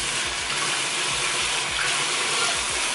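Tap water runs steadily over a small Hoya houseplant being rinsed in a sink, a close, continuous splashing gush with faint rhythmic low thumps underneath, and no talk over it.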